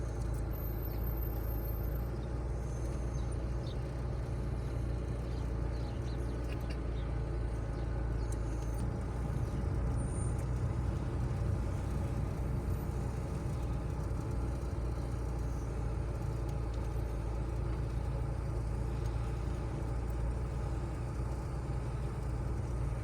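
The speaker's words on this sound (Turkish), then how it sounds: "Bu zorlu yolda şu an arabalar sıra sıra dizilmiş." Steady low engine rumble of cars queued bumper to bumper on the Kırıkkale–Ankara road, a dense idling traffic jam that stays even and continuous throughout, with no voices.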